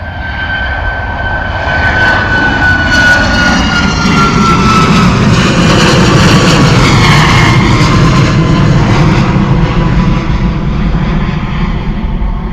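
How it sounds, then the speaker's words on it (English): A Ryanair Boeing 737 jet departs Bristol Airport in heatwave conditions, a loud, sustained engine roar with a high whine that swells and holds close by before fading slightly at the end. "beautiful departure from the 737 Ryanair. Nice and loud for us as well"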